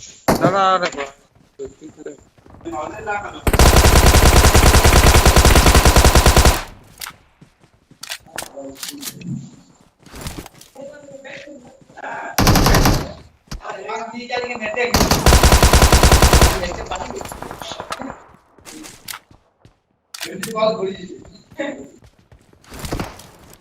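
Gunfire in the mobile battle royale game PUBG Mobile comes in long loud bursts of rapid automatic shots and a short single burst, with someone talking between them.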